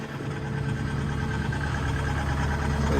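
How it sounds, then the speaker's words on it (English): Diesel engine of a Takeuchi excavator running steadily at idle, a rough, uneven low rumble with a constant mechanical clatter, close and fairly loud throughout. "Not the sweetest sounding engine I've ever heard"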